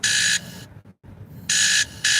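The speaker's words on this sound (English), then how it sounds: "My alarm went off." A workplace alarm beeps in loud, bright electronic bursts, two long tones separated by a short silence, with a third tone starting just after the second.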